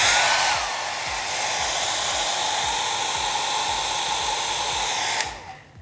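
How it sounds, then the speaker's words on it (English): A hairdryer blows steadily for about five seconds with a loud, even rushing hiss, then switches off and the noise drops away, heard alone without speech. "while I create movement with a hairdryer and hold the flash stick."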